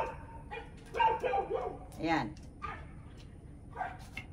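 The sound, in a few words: dog barking repeatedly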